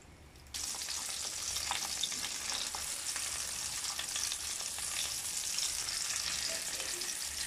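Steady, loud sizzling of meat frying in a hot pan, a continuous crackling hiss that starts abruptly and holds throughout, with no voices.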